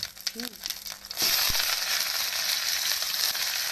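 Food hits hot oil in a pan and sets off a sudden, loud sizzle that keeps crackling steadily. A brief voice is heard just before it.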